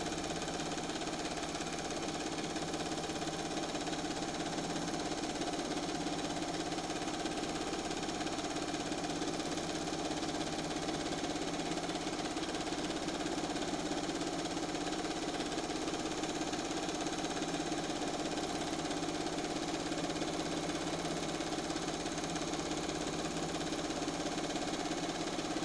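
A sewing machine runs steadily through free motion quilting, a continuous close mechanical whir at constant speed from start to finish, with no pauses and no talk.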